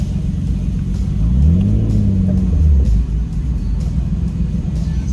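A Nissan Skyline's engine is revved once, rising from a rumbling idle to a deep swelling roar and settling back down, close and loud over the idle.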